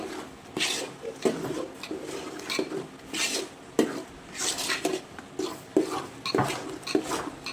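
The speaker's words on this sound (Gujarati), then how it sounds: "હવે એકદમ મિક્સ કરી લેવાનું છે આપણે આ રીતે" A spoon repeatedly clinks and scrapes against a bowl while gram flour batter with turmeric, salt, chili, dried fenugreek and garam masala is stirred, giving an irregular rhythm of soft knocks and scraping swishes at close range.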